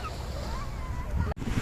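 Sea waves wash steadily at a beach, a continuous broadband roar with wind buffeting the microphone, heard close and loud without a break.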